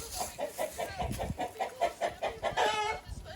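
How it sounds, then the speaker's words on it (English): Chicken clucking in rapid, rhythmic bursts close by, a quick series of short clucks with a louder squawk near the end. "Hi, chicken."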